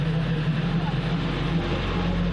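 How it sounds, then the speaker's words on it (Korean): A tractor engine rumbles steadily as it passes nearby, a low droning hum throughout with no talking. "내려가는 길에 트랙터 또 지나가네요"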